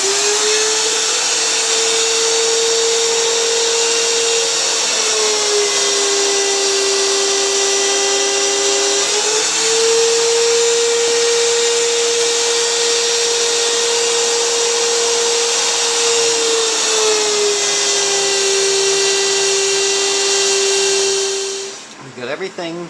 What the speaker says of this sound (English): Now I need to countersink the holes for the screw eyes